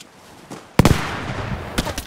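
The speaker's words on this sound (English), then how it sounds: "That's a bomb!" A bomb explodes in a video game, a sharp loud blast followed by crackling debris and a few smaller pops, alone without talk.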